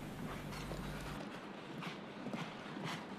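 Hooves of a horse in Olympic team show jumping thud faintly and rhythmically on an arena surface, a soft clip-clop beneath steady distant crowd ambience.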